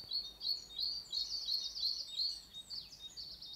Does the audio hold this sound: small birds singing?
yes